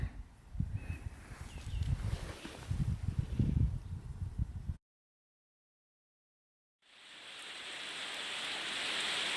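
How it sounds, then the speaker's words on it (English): Heavy rain falls outdoors as a steady, dense hiss that cuts out abruptly into silence for about two seconds, then returns and gradually swells again. "It is raining a lot."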